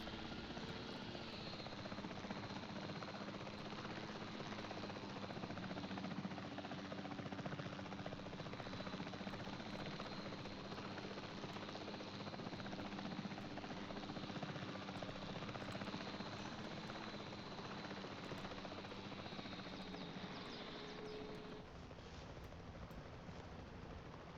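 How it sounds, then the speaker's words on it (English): Helicopter lifting off in the video game Jurassic World Evolution 3: a steady, loud rotor and engine drone holds for the whole stretch, then eases slightly near the end, with no talking over it. "that's a very dangerous place to put a helicopter in real life"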